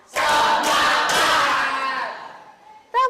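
Three crisp group claps land in steady rhythm, merging with loud collective shouting that fades out, followed by a short vocal sound at the end.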